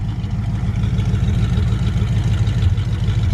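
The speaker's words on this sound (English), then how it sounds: "Listen to this exhaust." A 1936 Chevrolet 5-Window Coupe idles with a steady, close, deep exhaust burble and an even low throb, with no other sounds.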